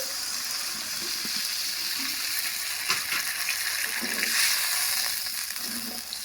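Spiced masala fries in oil for a pabda fish curry as water is poured in, a steady close sizzle and hiss with a few stirring scrapes and bubbling surges, no voices.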